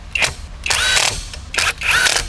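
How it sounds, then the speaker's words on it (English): Bolts are driven in while a Billet Workz short throw shifter is installed in a 2022 Subaru BRZ. A power tool gives three or four short, whining bursts close by, with brief pauses between them. "I'm gonna put these 3 bolts back on just to hold it in place"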